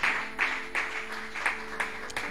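A church congregation applauding: continuous clapping from a room full of people, with a few louder pulses standing out from the steady patter and no voices heard.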